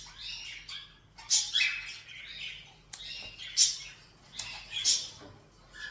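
Several birds in an indoor bird room at the start of breeding season give sharp chirps and tweets in short bursts, fairly close, over a low background hum with no speech.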